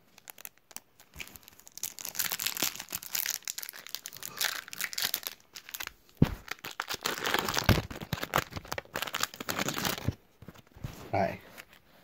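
A 2017 Sun & Moon Pokemon card pack from a cereal box is torn open by hand: close, repeated crinkling and ripping of a foil wrapper in irregular bursts with brief pauses.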